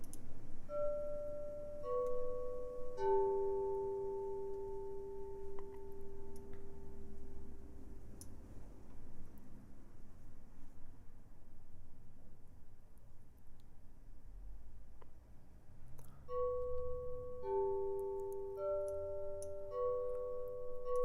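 A soft bell-like synth patch plays a generative arpeggiated sequence in G pentatonic, sustained tones stepping up and down, pausing midway before resuming over a low ambient hum.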